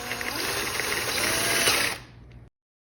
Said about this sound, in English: we'll take our 7/8 drill bit and get lined up in the right hole here